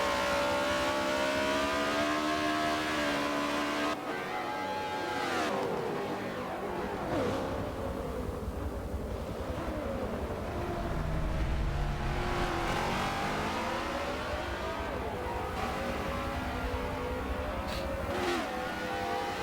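Race cars in a sim racing game on the Sebring track, with the leader passing lapped cars: a steady, loud roar of engines revving and sweeping past one after another throughout.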